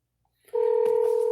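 A telephone call starts with a steady two-tone dialing signal, loud and close, cutting in abruptly after a moment of silence and holding continuously.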